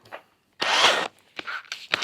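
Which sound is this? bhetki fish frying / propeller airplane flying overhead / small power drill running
small power drill running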